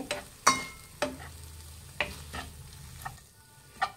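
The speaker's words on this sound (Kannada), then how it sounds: "ಫ್ರೈ ಮಾಡಿರುವಂಥ ಎಗ್ನ ಹಾಕ್ತಾ ಇದ್ದೀನಿ. ಇದನ್ನು ಮಿಕ್ಸ್ ಮಾಡಿ." Fried egg is stirred into a pan while cooking an egg sandwich, a soft bed of sizzle punctuated by sharp clinks and scrapes of a utensil against the pan at irregular intervals, no voices present.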